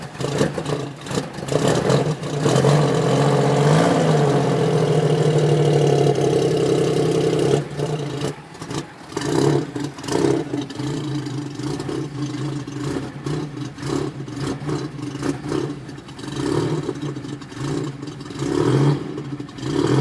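A carbureted engine with a side choke runs steadily after priming, a continuous mid-pitched rumble with small rises and dips in speed as it warms up, close and fairly loud throughout.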